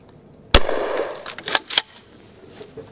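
A 12 gauge shotgun firing short minishells, one sharp report followed by two quick mechanical clacks of the action cycling, close and fairly loud, with no talking.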